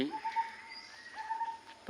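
A bird calls out in a quiet rural setting, a thin, steady tonal note held twice in succession, fairly near and clear over faint background, with a brief burst of noise at the end.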